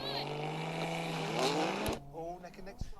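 Cars racing a Tesla in a drag race, a loud sustained engine roar with rising and shifting tones that cuts off abruptly near the end, followed by quieter engine sounds, with people talking over it.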